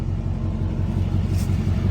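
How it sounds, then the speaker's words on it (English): A pickup truck idles in 40-degree cold with a steady, loud low rumble that stays even throughout, close by and with no talking over it. "I'm leaving the truck running"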